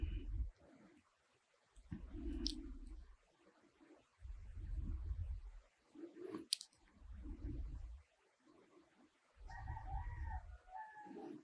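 Rooster crowing sound effect from the browser game CryptoBlades, with several low, rhythmic bursts repeating every two seconds or so, fairly quiet and with no voices over them.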